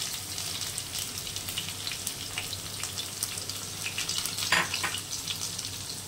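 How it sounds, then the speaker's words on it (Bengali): Spice masala sizzling and frying in hot oil while being stirred for a spicy tengra fish curry, a steady close crackle with brief scraping stir accents, one louder burst near the end. "মশলাটা ভালো করে কষানো হয়ে গেছে"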